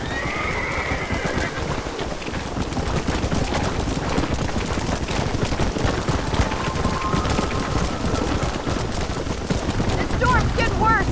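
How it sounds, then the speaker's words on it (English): Steady rain and storm noise in the Red Dead Redemption video game pours down throughout, with horses neighing and whinnying and sharp gunfire-like cracks mixed in. "The storm's getting worse."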